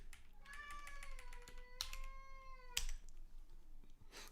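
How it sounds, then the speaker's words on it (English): A pet cat gives long, drawn-out plaintive mews, two or three stretched whining calls close to the microphone, with soft computer keyboard typing ticking in the background. "My cat has the most plaintive mew in the world."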